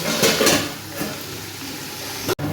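Food frying in a pan, a dense sizzling hiss with a few stirring bursts near the start, steady afterward, ending in a brief sharp knock and a momentary cut.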